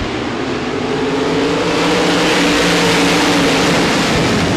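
RaceSaver sprint cars roar together just after the green flag at Devils Bowl Speedway, a loud, dense, continuous wall of engine noise with rising pitch as the pack accelerates into the first turns.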